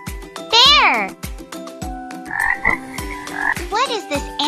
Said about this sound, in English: What is this animal? Frog! Frog! Frog!